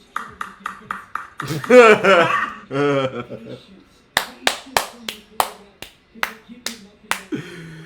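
A handful of sharp hand claps ring out in an uneven series, near and fairly loud, after a stretch of someone speaking and laughing at the start.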